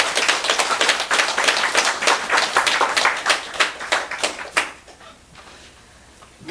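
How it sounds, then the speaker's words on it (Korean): A lecture audience claps in a quick, rhythmic burst of crisp, closely spaced claps from nearby, stopping abruptly after a few seconds and leaving quiet room tone. "박수"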